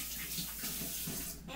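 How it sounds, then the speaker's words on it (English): Hands are washed under a running tap, with a steady close splash and gush of water that fills the short moment and drops slightly near the end. "I'm just going to wash my hands"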